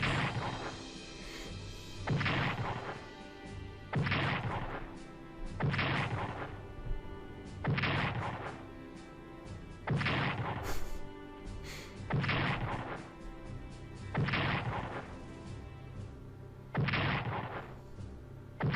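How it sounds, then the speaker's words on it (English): Repeated heavy anti-aircraft fire from the Strategic Command: World at War strategy game, about eight loud booming bursts spaced roughly two seconds apart over a constant rumbling battle bed, with no talk. "Guess I didn't see that anti-aircraft fire coming."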